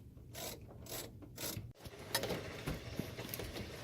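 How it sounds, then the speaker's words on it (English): Ratchet clicking as two 13mm bolts are run back into the fuel filter mount on a 2500 Ram 6.7 Cummins, quick close metallic ticking in short bursts, fairly quiet with no talk. "Go ahead and put those two 13mm bolts back in."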